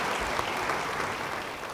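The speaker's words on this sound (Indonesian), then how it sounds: "Yang mau beri tepuk tangan bagi dia," A church congregation applauds after a sermon, with steady, even clapping from many hands that fills the room at moderate loudness.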